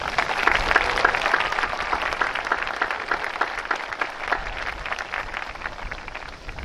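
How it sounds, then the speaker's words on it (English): A graduation audience applauds steadily, a dense wash of many hands clapping at moderate distance that holds evenly throughout with no voices. "giving a round of applause to your parents and loved ones"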